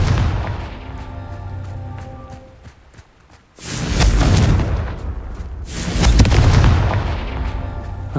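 Two heavy booming blasts from the Confringo explosion spell in Hogwarts Legacy, each a loud, broad roar that swells and fades, following a stretch of rumbling ambience.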